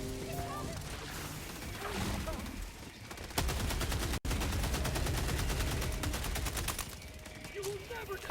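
Automatic gunfire in Helldivers 2 as players shoot at enemies, with sustained rapid bursts through the middle of the clip alongside impacts and game noise, and voices talking at the start and end.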